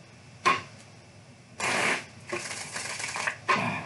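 Several bursts of riffling and slapping from a tarot deck being shuffled by hand, close and fairly loud, with quiet pauses between the bursts.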